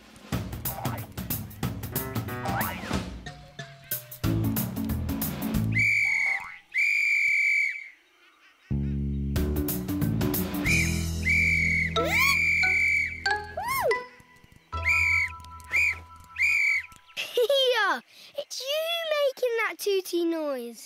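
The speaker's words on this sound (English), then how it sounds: "This is my special whistle to make sure everyone listens." A special whistle blows in several short, shrill toots amid other noises and a voice, loud and close.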